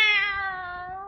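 A cat meows once in a radio play, a clear, close, drawn-out mew that slowly falls in pitch and fades, with nothing else in the background.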